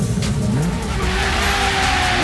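Diecast toy cars, an Enzo Ferrari and a 1970 Dodge Charger R/T, roll down a racing track ramp in a steady rushing, rattling run, close and fairly loud, with no voices.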